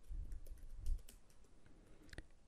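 Rapid, uneven keystrokes on a computer keyboard as a title is typed, close and fairly quiet, with a few sharper clacks near the end and no speech.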